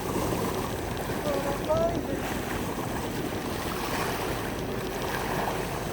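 A sailboat motors under engine power across Hawke Bay, heard as a constant wash of water and wind noise with a low rumbling bed throughout and no clear breaks.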